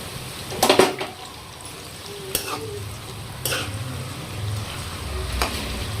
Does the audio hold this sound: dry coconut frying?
yes